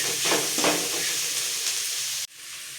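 Onions sautéing in oil with rock salt, a continuous close sizzle with a few stirring scrapes early on before the sound cuts briefly and resumes softer.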